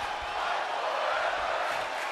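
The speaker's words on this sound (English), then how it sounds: "And the appreciation from this capacity crowd pours out." A capacity crowd in a New York City arena in the WWE 2K24 wrestling game roars in a steady, dense wash of cheering and applause that holds at an even level throughout.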